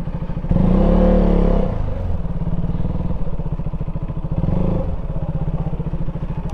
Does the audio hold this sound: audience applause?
no